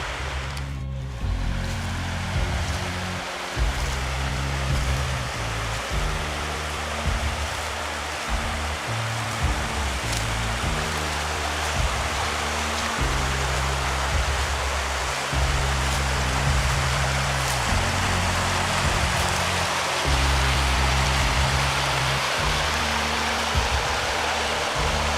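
A stream beside a bushcraft bivouac camp rushes steadily, making a dense, unbroken wash of flowing water that stays at the same level throughout.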